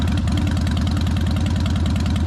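A Harley-Davidson Dyna FXD motorcycle engine running loud and close, a deep, pulsing, throaty exhaust rumble with an even lumpy beat and no talk.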